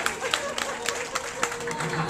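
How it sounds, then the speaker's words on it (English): Applause from a ballpark crowd at Busch Stadium honoring a seventh grade teacher, dense and steady with scattered sharper claps over a broad wash of crowd noise, no voices standing out. "Have a round of applause."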